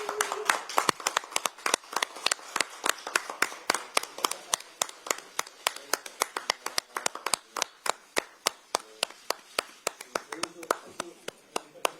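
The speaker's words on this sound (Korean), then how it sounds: "큰 박수로 환영해 주시기 바랍니다" At a Korean political party recruitment ceremony, the audience claps in sharp, rhythmic unison for about twelve seconds, each clap crisp and evenly spaced, with faint voices underneath.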